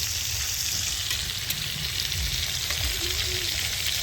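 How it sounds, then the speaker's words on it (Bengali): Fish fries crisp in a wok half full of hot oil, giving a dense, continuous sizzle and bubbling hiss, close and steady, with a faint low rumble beneath. "ওখানে আমাদের মাছ ভাজা হচ্ছে দারুণ করে কড়কড়া করে"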